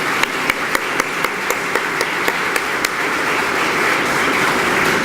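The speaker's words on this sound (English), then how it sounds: "Let's give one more big round of applause for all of our honorees tonight" A large crowd at an awards celebration applauds in a dense, steady roar of clapping, with a few sharp, louder claps standing out in a regular beat near the start.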